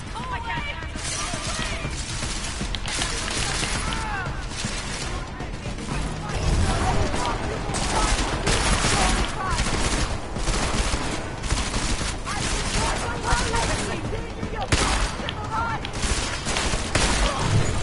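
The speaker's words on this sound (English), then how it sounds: "Don't quite know where I'm getting shot at from." Gunfire in the video game Deus Ex: Mankind Divided, sustained bursts of shots and impacts with crashing hits throughout, loud and continuous, growing heavier midway, with a voice speaking over it.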